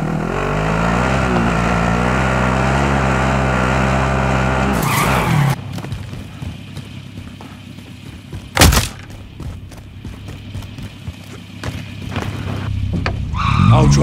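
Car engine drones steadily while driving in Warzone, a loud sustained rumble for the first five seconds, then quieter road and engine noise with a brief sharp burst midway and scattered clatter.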